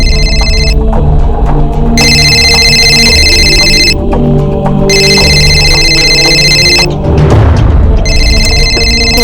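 A telephone rings loudly in repeated long electronic trills separated by short pauses, over a low musical hum, with a brief whoosh near the end.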